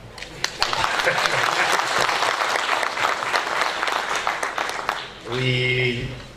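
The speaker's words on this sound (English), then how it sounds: "you deserve to help us clap for you" Seminar audience applauding a group of students, sustained dense clapping for about five seconds, then the applause stops and a voice begins speaking.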